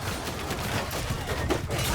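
Archers in Mount & Blade II Bannerlord loose a volley of arrows, a dense, continuous patter of shots and impacts across a noisy battlefield.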